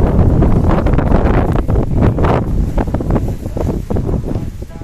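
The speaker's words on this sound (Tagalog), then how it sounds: "Lakas ng hangin dito." Strong wind roars and buffets the microphone in loud, continuous gusts, with a faint wash like water or surf underneath.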